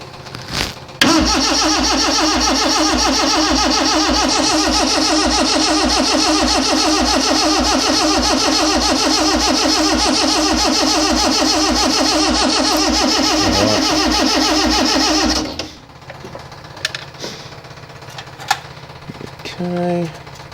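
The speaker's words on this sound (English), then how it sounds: "Trying to turn the entire engine and gearbox over all at once." A Morris Minor's starter motor cranks the freshly built engine and gearbox over without firing, a loud steady rapid churning for about fourteen seconds that cuts off abruptly, followed by quiet workshop clicks and handling noises.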